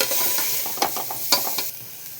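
Onions and tomatoes sautéing in a pan, with a steady sizzle broken by a few sharp scrapes and clinks of stirring, close and fairly loud, no voices.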